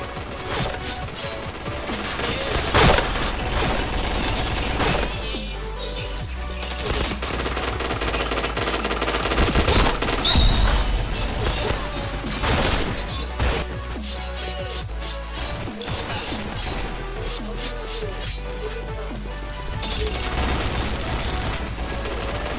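Rapid gunfire from the first-person shooter PointBlank, dense bursts of automatic fire with crashes and impacts, loud and continuous throughout, with music or game effects underneath.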